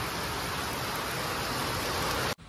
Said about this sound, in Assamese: একদম ভাল ডাঙৰ বৰষুণ দিছে